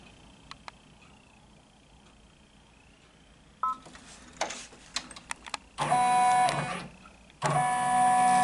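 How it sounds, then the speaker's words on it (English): A Babylock 10-needle embroidery machine tracing a design outline over a t-shirt, with button beeps followed by bursts of motorized whirring as the frame moves, two louder sustained runs near the end. "When I hit this button, it's just going to outline, show you the outline of the design on my t-shirt."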